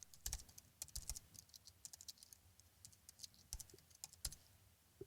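Quick, irregular keystrokes on a computer keyboard while text is typed into a template title, clear and close with short pauses between bursts.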